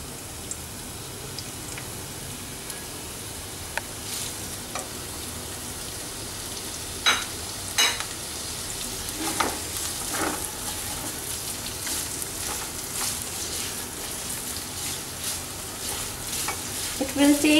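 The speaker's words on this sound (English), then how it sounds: "these are 3 sliced onions, finely sliced onions. So we will add to this pan." Finely sliced onions fry steadily in a pan, a continuous close crackling sizzle with occasional sharper pops and stirring scrapes throughout.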